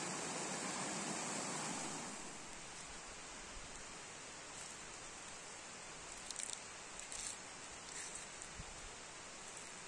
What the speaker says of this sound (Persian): صدای رودخونه میاد